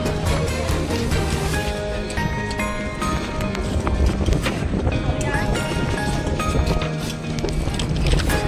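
A passenger launch boat on a river crossing in South 24 Parganas produces a dense, continuous engine and water roar. Constant wind buffets the microphone and a busy crowd chatters around it.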